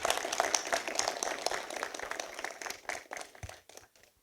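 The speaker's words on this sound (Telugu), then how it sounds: "అందరూ చప్పట్లు కొట్టున్నారు సరే" An audience at a film trailer launch event claps in a dense, lively burst of applause that gradually thins out and fades to a few scattered claps.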